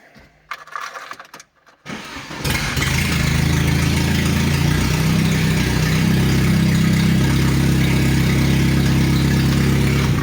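A Polonez car engine, being built up as a fast project car, turns over and fires for the first time, then settles into a loud, steady close-up idle with a deep rumble and no talking.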